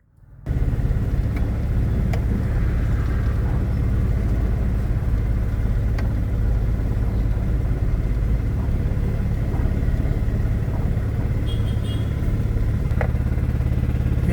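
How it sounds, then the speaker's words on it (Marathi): A vehicle reverses into a parking spot, its engine giving a continuous, fairly loud mid-pitched rumble with light clattering throughout, and no voices. "रिवर्स घेऊन लावू गाडी आपण"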